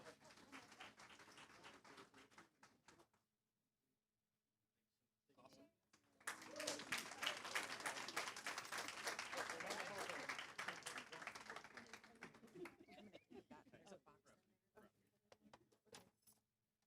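At a school board meeting, an audience applauds Apple Award winners. After quiet stretches, the clapping swells into a loud, dense burst that gradually thins into scattered claps, with some voices mixed in.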